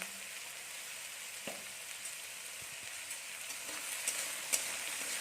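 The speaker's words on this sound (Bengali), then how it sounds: "এবার আমরা এটাকে একটু ভালো করে ভেজে নেব" Vegetables with salt and turmeric frying in a pan for pasta: a steady, fairly quiet sizzle with faint crackles and occasional stirring taps, no one speaking.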